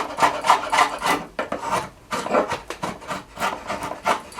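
A rasp works yew heartwood while a billet bow limb is shaped toward the tip, giving repeated scraping strokes in an even rhythm, close and fairly quiet, with no voices.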